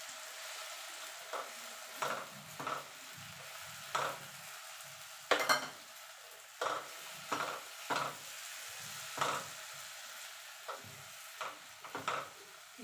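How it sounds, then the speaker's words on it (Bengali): Sabudana frying in ghee in a pan gives a soft steady sizzle, broken by about a dozen scraping strokes of a spoon stirring the pearls, close and without talk. "এবার সাবুটাকে ঘিয়ের সঙ্গে মিনিট 5 ভেজে নেব।"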